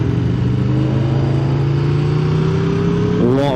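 Aprilia RSV4 1100 Factory superbike engine on the Cadwell Park circuit, a steady rising drone that pulls up through the revs for several seconds before a sharp throttle change near the end, loud and close.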